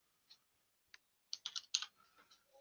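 Close, light keystrokes on a computer keyboard, a couple of isolated taps followed by a quick burst of several clicks and then softer trailing keypresses.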